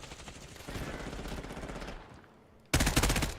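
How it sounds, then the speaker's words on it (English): Rapid automatic gunfire in the video game Black Ops 6, a dense rattling burst that fades, then a sharp louder burst of shots at the end. "How many people are shooting at us right now?"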